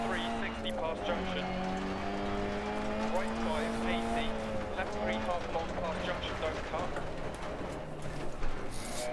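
A classic Mini rally car races along a Rally Finland stage in DiRT Rally, its engine note rising and falling through the gears with a buzzy, steady drone, heard at moderate level beneath someone talking.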